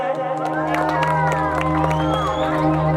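An audience at a live Chhattisgarhi folk music performance claps and cheers with whoops and children's shouts over a steady droning instrumental backing, lively and continuous throughout.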